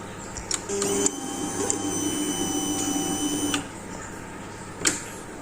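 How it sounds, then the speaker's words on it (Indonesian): Continuous mechanical whir from the throttle position sensor of a fuel-injected Kawasaki Ninja 250 working normally, with a light hum and occasional clicks, heard up close without voices. "Suara yang normal pada TPS Ninja 250 itu kalau tidak mengalami kerusakan"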